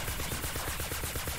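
Rapid automatic gunfire from a ranged weapon in a tactical hero shooter game, firing in a steady rhythmic burst of regularly spaced shots, loud and close, with no talking over it.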